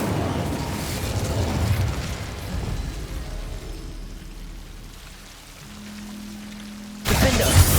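In Hogwarts Legacy, an Incendio fire spell goes off with a loud roaring, crackling burst that fades into a quieter rumble, then flares up again sharply at the end.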